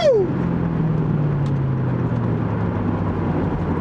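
A 2003 Ford Mustang GT convertible roars under hard acceleration, a loud, steady engine drone that holds close and constant throughout, with a brief falling whine at the start.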